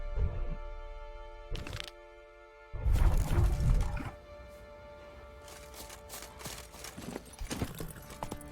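The horse Roach trots and gallops in The Witcher 3: Wild Hunt, with hooves clopping in uneven bursts, a loud crashing flurry near the middle, and continuous game ambience and music throughout.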